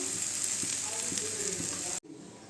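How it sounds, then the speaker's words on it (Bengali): Mung and masoor dal frying in a small amount of oil, a steady close hiss of sizzling with faint stirring scrapes that cuts off abruptly near the end, followed by quieter background. "ডালটা একটু ভাজতে হবে, মুগ ডালটা"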